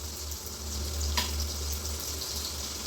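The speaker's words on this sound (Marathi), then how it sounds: "तेल चांगलं गरम झालं की त्यात जिरी मोहरी टाकून कांदा टाकलाय।" Chopped onion with cumin and mustard seeds sizzles in hot oil in a kadhai for an egg curry, a faint, steady frying hiss with one brief crackle partway through.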